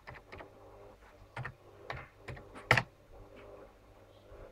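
Sparse typing on a computer keyboard plugged into a tablet, with irregular clicks and taps close by, one sharper key strike standing out, quiet between keystrokes.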